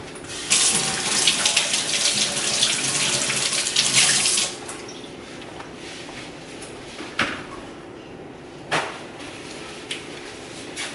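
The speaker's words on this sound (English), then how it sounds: "First thing first, let's wash the hands." A tap runs loudly as hands are washed beneath it for several seconds, then the water stops, leaving quieter knocks and handling sounds nearby.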